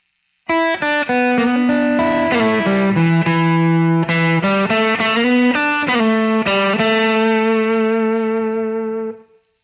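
Electric guitar plays a slow, bending blues phrase with sustained notes and light overdrive, alone and clear, ringing out at the end.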